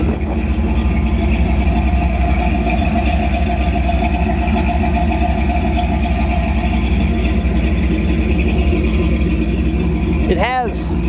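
A 1957 Chevrolet Bel Air's small-block V8 idles through a Flowmaster exhaust with a deep, steady rumble, close and loud, and a brief sweeping whine near the end.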